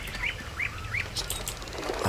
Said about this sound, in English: Oh, should have shot that bird.